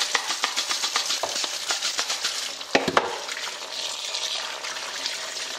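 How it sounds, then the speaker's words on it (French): Water splashes and swirls inside a kitchen container as it is rinsed out, a continuous close trickling wash with a couple of brief knocks partway through. "Je passe de l'eau, je passe à l'intérieur,"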